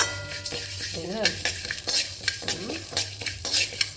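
Split urad dal roasts in hot coconut oil in a pan, with a steady sizzle broken by frequent scraping stirs of a utensil, close and fairly loud, while a person speaks briefly.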